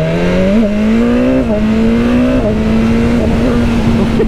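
A new BMW S1000R, a 1000cc naked motorcycle, is accelerating below half throttle. The engine note is loud and steady and climbs gradually through the gears, with brief dips at the shifts.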